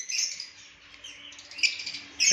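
Lovebirds in a breeding aviary chirp and squawk in shrill, high-pitched bursts, fairly near and continuous, with louder calls at the start and end and no voices.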